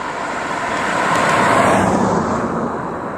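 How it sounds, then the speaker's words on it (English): A car passes by, its engine and tire noise rising to a peak midway and then fading out, heard alone without talk. "we've got another car."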